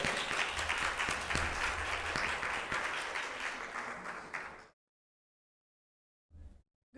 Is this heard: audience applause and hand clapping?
yes